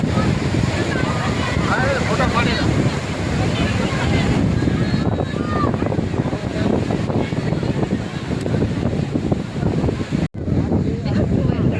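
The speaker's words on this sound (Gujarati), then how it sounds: "પવન બહુ મસ્ત ઠંડો ઠંડો આવી રહ્યો છે" At Mandvi beach at sunset, a cool wind buffets the microphone with loud, constant roaring gusts, and surf may be mixed underneath. Voices may be faintly present.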